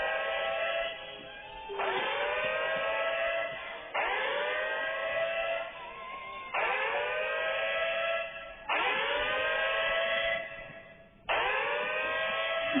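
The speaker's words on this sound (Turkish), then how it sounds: "Arkadaşlar bu alarm ne be?" A loud wailing alarm siren in a Roblox game rises and falls in long repeated cycles, steady and continuous throughout with no voices.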